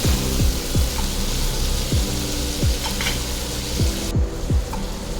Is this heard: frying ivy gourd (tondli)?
yes